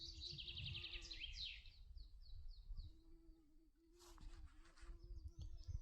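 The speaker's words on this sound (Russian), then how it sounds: "И шмель тоже от меня убегает." Bumblebee buzzing outdoors at a Sabantuy festival in Sterlibashevo, a soft continuous drone that rises and falls as it moves, with bird chirps over it and faint crowd noise far behind.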